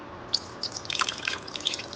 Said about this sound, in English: this is around quarter cup of water. Just going to add it here in the chicken